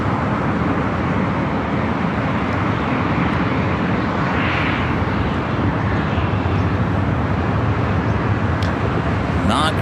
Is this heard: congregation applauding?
no